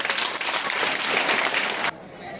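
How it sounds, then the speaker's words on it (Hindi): Steady, dense audience applause at a school Hindi fortnight closing ceremony, many hands clapping together at close range for about two seconds before it cuts off abruptly. "तालियां बजाइए आप लोग।"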